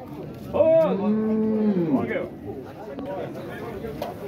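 Cattle low at a dairy cow fair in Dois Riachos, Alagoas, with one long, loud moo close by near the start, then crowd chatter and people talking through the rest.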